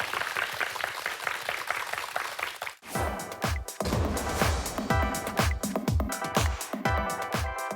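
Dense audience applause greets the opening of a public science lecture series on exploration from Jeju to Mars, filling the first seconds before breaking into sparser, rhythmic claps.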